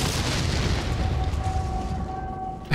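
A barrel explosion in the video game Mad Max, a deep rumbling boom filling the clip, loud and close, slowly tailing off with a faint ringing tone underneath.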